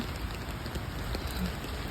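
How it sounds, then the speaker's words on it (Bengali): Heavy winter rain pouring outside in New York, a dense steady hiss of drops hitting the ground, loud and continuous with no voices. "সারাদিন ধরে বৃষ্টি হচ্ছে বলতে গেলে মুসল ধরে বৃষ্টি হয়েছে সারাদিন"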